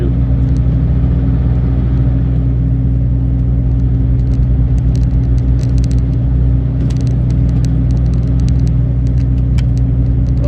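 Interior hum of a car travelling along a wide road out of Ruiselede, Belgium, a steady low engine and road rumble throughout with faint occasional ticks and rattles.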